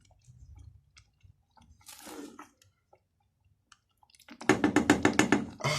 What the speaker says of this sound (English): Then I'm gonna give this a quick stir.